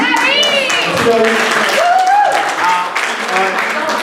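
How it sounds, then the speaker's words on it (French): An audience at a meet-and-greet at L'Espace La Risée applauds for Larry, sustained clapping running underneath excited voices and cheering from the crowd. "Fait qu'on peut applaudir Larry."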